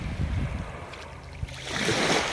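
Waves washing onto an Arabian Sea beach in Lakshadweep, a soft rushing surf with wind noise that swells louder near the end, with no voices.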